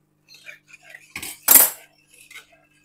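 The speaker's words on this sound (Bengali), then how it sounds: "এবার জলের সাথে গ্রেভিটা বেশ ভালো করে মিশিয়ে দেব।" A metal spoon stirs potol gravy with water in a pot, producing a few clinks and scrapes against the metal, with one louder clattering scrape in the middle and quiet gaps between.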